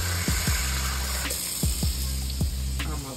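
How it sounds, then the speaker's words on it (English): Water is poured into a bowl of homemade meatballs in a kitchen, with a steady liquid wash and several gurgling, glugging pulses that recur every second or so. "I'm gonna put some more water in this bowl."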